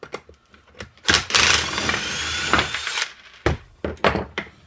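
A power driver backs screws out to remove the handle from a homemade Foreman-style pocket hole machine: a sustained loud whirring burst of about two seconds, followed by shorter spurts and clicks, with no talk.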